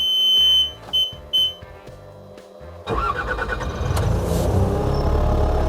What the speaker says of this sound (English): To operate the angle broom, we start the machine.